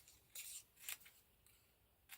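Scissors snip through paper at a craft table, with two or three quiet, crisp cuts, close but faint, and no talking.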